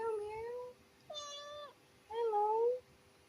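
A cat meowing three times nearby, clear plaintive calls separated by short pauses in a quiet room.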